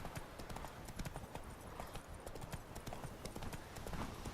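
Geralt's horse Roach trots in The Witcher 3, a steady rhythmic clip-clop of hooves over a dense, noisy game soundscape.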